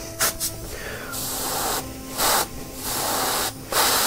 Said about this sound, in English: apologies for the whirring airbrush compressor in the background